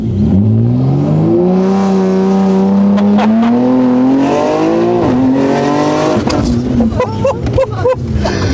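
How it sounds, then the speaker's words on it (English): A tuned BMW M3 Touring carrying three people accelerates hard on a track, its engine note climbing loud and close through the gears with brief shift dips. "we want to see what this M3 Touring does with 3 people in."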